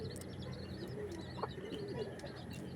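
Breeder pigeons in a loft coo softly, with low throaty calls and a few higher chirps and flutters mixed in, fairly faint against a constant background hiss.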